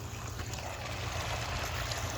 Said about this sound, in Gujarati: પાણી હાલે છે મસ્ત મજાનું